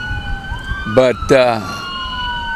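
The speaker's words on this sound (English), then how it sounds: "hang on, here's the siren." A siren wails at Plaza Park in Oxnard, California, a steady, sustained tone that rises gently, loud and near, with a brief voice speaking over it partway through.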